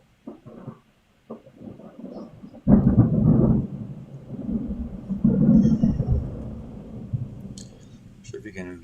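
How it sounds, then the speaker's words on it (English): A thunderstorm outside a window gives a sudden deep rumble of thunder that rolls on for several seconds, muffled and indoors-sounding, with someone talking quietly before and around it. "that's a thunderstorm outside my window."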